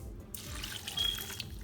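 A short burst of water pouring and splashing into a pot of apples, plums, brown sugar and vinegar for chutney, close by and fairly soft, with no talking.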